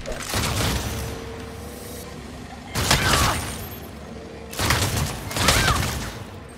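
Shotgun fire in the Saints Row video game: several loud clustered blasts in three separate bursts, each a heavy booming rumble with rattling tails, with quieter game ambience between.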